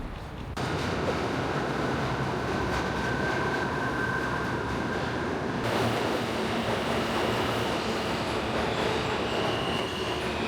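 New York subway train ride heard from inside the car, a loud steady rumble of wheels and motors with metallic squeal and rattle, the tone shifting partway through, no talk.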